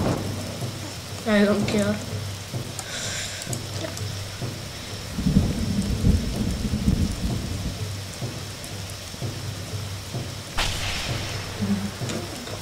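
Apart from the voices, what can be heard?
thunderstorm with thunder and rain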